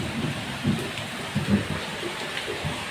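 Rain falls at night with low rumbles of thunder rolling underneath, a steady wash of drops punctuated by several soft, deep swells across a few seconds.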